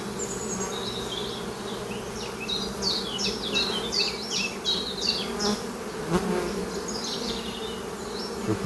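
A strong honeybee colony buzzes steadily at an open hive during a spring honey harvest, a dense continuous hum with bees droning close past, no talk.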